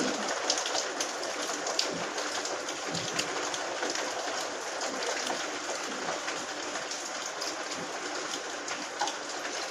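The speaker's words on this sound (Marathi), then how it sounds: "बाहेर पाऊस पडतो जोरात" Heavy rain pours steadily outside, a constant hissing roar with occasional louder drops and splashes, no voices.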